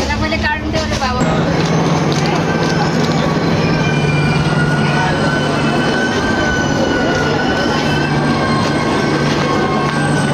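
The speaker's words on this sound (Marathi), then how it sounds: "दिवा स्टेशनला ट्रेन पोचली" Sawantwadi-Diva Express pulls into Diva station with a loud, steady rail rumble, sustained wheel and brake tones, and a constant roar that fills the whole stretch. Faint background voices blend into the din.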